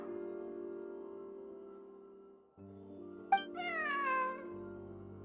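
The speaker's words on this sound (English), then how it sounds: "Wait, where did you get the cat?" A cat in the video game Genshin Impact gives one clear, drawn-out meow with a rising and falling pitch, heard over a soft sustained musical backdrop.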